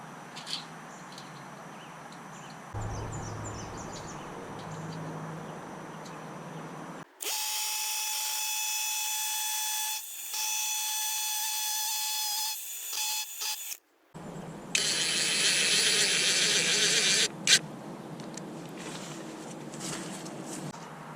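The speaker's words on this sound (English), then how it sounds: "I'm going to drill in a tap con" A power drill drives Tapcon concrete screws during shed construction, whirring in long steady bursts, stopping and restarting, with a high-pitched grinding tone during the loudest stretches, loud and close.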